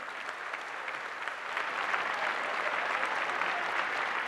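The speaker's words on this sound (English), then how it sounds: "let's give them a round of applause" An audience at a graduate commencement breaks into applause, a broad, steady wash of clapping from a large crowd that swells slightly louder midway and holds to the end.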